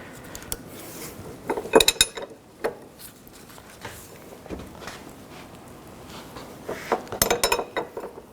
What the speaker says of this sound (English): 24mm wrench on this nut